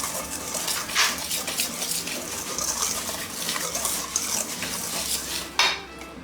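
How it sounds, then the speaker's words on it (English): Dry cornbread ingredients being mixed in a bowl, busy scraping and clinking of a utensil against the bowl, close and fairly continuous with a sharper knock near the end, no talk. "So let's mix up the dry ingredients first."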